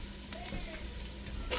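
Ground meat browning in a pan with red onion going in, a steady close sizzle with a soft stir or scrape partway through and a brief clatter at the end.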